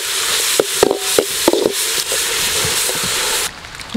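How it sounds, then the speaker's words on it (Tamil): Chopped tomatoes sautéing in a hot pan for cauliflower masala, a steady loud sizzle with scattered sharp pops and crackles, then the frying dies back abruptly near the end. "தக்காளிங்க, தக்காளி நல்லா மசி வரைக்கும் நல்லா வணங்கிக்கலாங்க"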